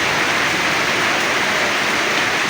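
Heavy rain falls steadily in a loud, broad hiss, continuous and close, with no voices during the downpour.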